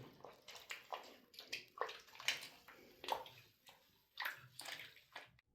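Water sloshes and splashes in irregular bursts as fabric is worked and rinsed, close up, with no talking.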